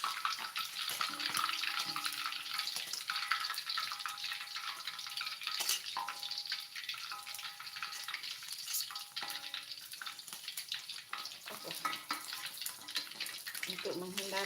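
Fish frying in hot oil in a home kitchen, a steady hiss and sizzle with occasional crackles, while someone talks over it.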